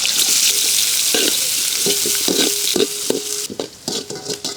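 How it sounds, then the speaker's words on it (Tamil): Cinnamon, fennel seeds and onion frying in hot oil for a village-style crab curry, a loud steady sizzle broken by repeated clinks and scrapes of a spoon stirring the pan. "எண்ணெய் ஊற்றிக்கிடலாம். உருக்கிடலாம். பட்டை சோம்பு வெங்காயம் போட்டுக்கலாம்."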